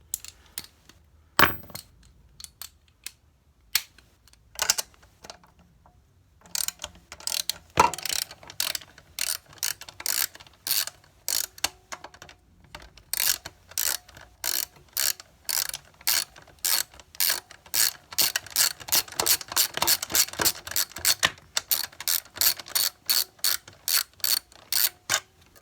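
A hand ratchet fitted with a 10mm socket and extension works a bolt loose on a Tailgator generator, with quick, close clicking runs of the pawl that grow faster and denser, broken by short pauses.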